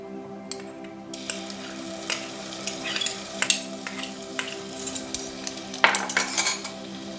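Fresh ginger being stirred in a pan of spiced oil for an Ayurvedic vegetable curry, a spoon scraping and tapping against the pan in irregular strokes over a low sizzle, no talking.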